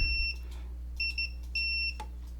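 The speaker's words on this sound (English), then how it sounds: "let's get the multimeter and let's start beeping over here" A multimeter beeps during continuity testing on a Mazda B2600 engine control module being repaired. It gives a series of short, clear electronic tones in irregular bursts, some quick doubles and some held, over a faint steady hum.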